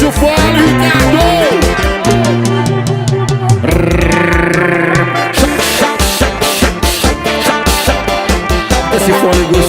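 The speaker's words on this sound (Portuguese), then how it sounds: "Puxa o fole, Ricardo" An accordion drives a lively forró tune, bellows pumping rhythmic chords and runs over a loud, dense band with percussion and bass, full and close throughout.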